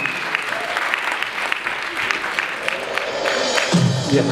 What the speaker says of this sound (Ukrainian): Може, оплесками вартує підтримати наших режисерів.